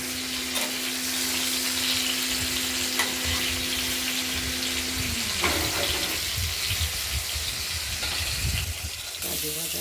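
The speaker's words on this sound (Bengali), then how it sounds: "পটলটা ভেজে নিই একবার দেখে নিলাম ভাজা কিছুটা হয়েছে" Pointed gourd frying in oil, a dense, continuous close-up sizzle with occasional stirring clatter, a steady hum underneath that fades midway.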